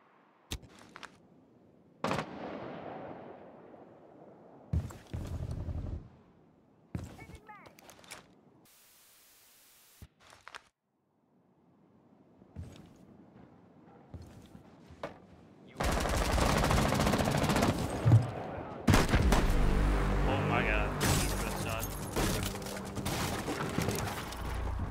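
Revolver gunshots in Rainbow Six Siege, several sharp isolated cracks spaced apart amid quieter game sounds, then a long dense stretch of loud continuous firing and noise.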